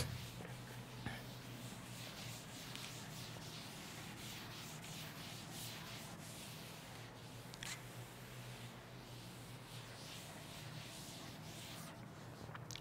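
Writing rubbed off a board by a chemistry teacher, a continuous close scrubbing rasp with faint scratchy texture that runs steadily throughout.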